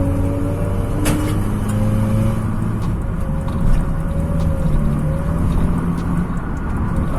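A Mitsubishi Xpander fitted with aftermarket headers and midpipe runs on a dyno, its engine holding a loud, steady roaring drone with faint rising tones throughout, and no voices.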